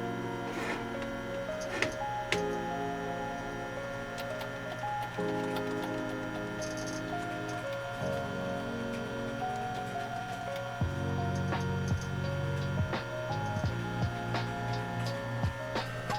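A traditional computer hard drive powered on after its loose power connector was reseated, running with a steady whirring hum and repeated light ticking and clicking that continues for several seconds, close and alone without speech.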